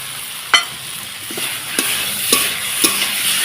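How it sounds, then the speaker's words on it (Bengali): Radhuni spice paste fries in hot oil with cumin, chilli and ginger, a loud close sizzle punctuated by four or five distinct scraping strokes of a spatula, with no speech. "এখন রাঁধুনি বাটাটা দিয়ে দিচ্ছি"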